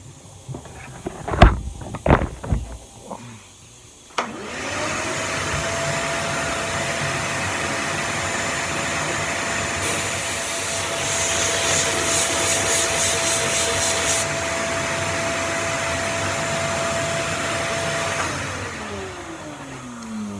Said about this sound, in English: what I'm using here on this cabinet is just a standard Craftsman shop vac that's got a decent filter in it